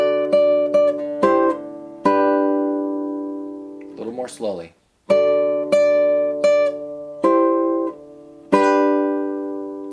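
An acoustic guitar plays chords from a song: a series of plucked and strummed chords ringing out clearly, with a short spoken remark in the middle before the chords resume.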